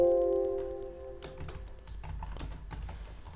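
Name being typed on a computer keyboard during a Python input exercise, a quick run of crisp, close key taps with a soft hum beneath, no talking.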